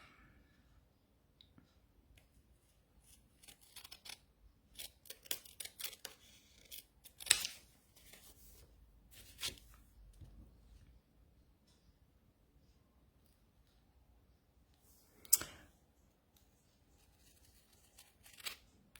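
Quiet, close snipping of big scissors trimming paper in short irregular bursts, with a few sharper crisp cuts standing out against near silence.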